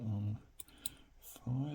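Faint, sparse clicks from a Mul-T-Lock model G padlock being picked, a few quiet ticks spaced apart over a low steady hum.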